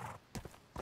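Horse hooves clip-clop in the medieval video game Medieval Dynasty, a few quick, soft hoofbeats heard close by and briefly, with no talk.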